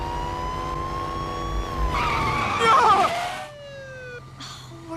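A cartoon car revs hard at full throttle in a Family Guy scene, a rising engine whine with a tyre-squeal burst midway, then a siren-like falling tone; voices speak over it.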